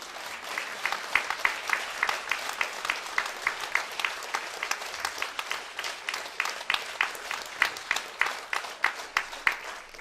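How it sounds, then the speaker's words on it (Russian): A concert hall audience applauds at an evening with a bayan virtuoso, a steady stream of many hands clapping, moderately loud, with some sharper individual claps standing out through the whole stretch. "Не пожалейте же аплодисментов, поаплодируйте друг другу."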